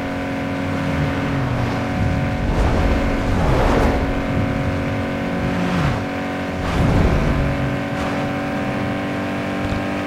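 A racing car engine in Need For Speed Underground 2 drones and revs loudly, pitch climbing and dropping through repeated gear shifts with a few whooshing passes, steady and close throughout.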